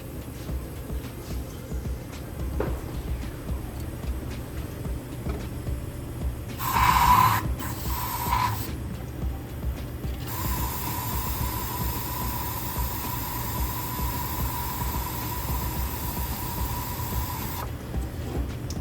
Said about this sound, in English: now we'll get some brake clean spray down in there